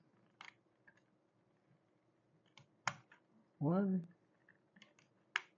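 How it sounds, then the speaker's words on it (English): Plastic LEGO pieces from the 2014 LEGO 60056 Tow Truck set snap into the truck's boom, giving a few small, sharp, close clicks spread several seconds apart, with a brief spoken word between them. "Then we're going to click it into the boom."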